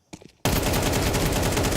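A rapid automatic AK rifle burst from Counter-Strike during a Major esports match erupts loud and close after a brief scuffle, a dense stream of shots that keeps going to the end.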